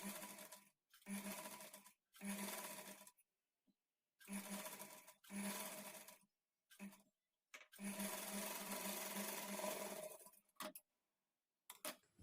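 A sewing machine stitches a sleeve onto the body of a lined blouse in repeated bursts, short runs then a longer one, close and steady with quiet gaps and no talking.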